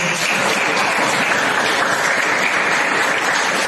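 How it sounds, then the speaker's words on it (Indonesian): Classroom applause after a student's persuasive speech practice, dense, steady clapping from a group of classmates, loud and close, filling the whole stretch without talk. "tepuk tangan untuk Ali"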